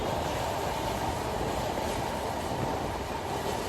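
Sundarban Express, a passenger train from Dhaka to Kushtia, rumbles along in a steady, loud roar of wheels and carriage noise with no voices.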